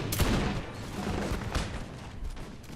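Musket volleys from Russian Jaeger infantry in the video game Napoleon Total War, a crackling fusillade of overlapping shots, a strong burst near the start and more scattered reports after, heard at moderate distance.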